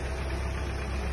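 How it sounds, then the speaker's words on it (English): A 2013 Hyundai Santa Fe engine idles steadily with a low, even hum, heard close up for a brief moment with no talking. "I left it running on just so you can kind of hear the engine"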